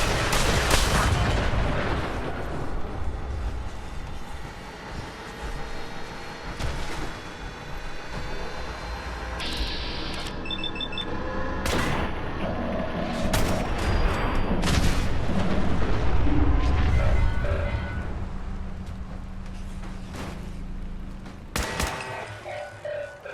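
Shotgun fire in the video game Fallout 4: a series of loud, booming blasts, separated by pauses and sharp impact sounds, over a busy background of game effects.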